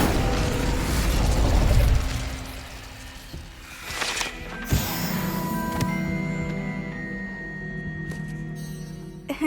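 A magical fire spell goes off in the Hogwarts Legacy game on Xbox, a loud whooshing burst followed by lingering rumbling and mechanical clinks as the effect settles, with no speech over it.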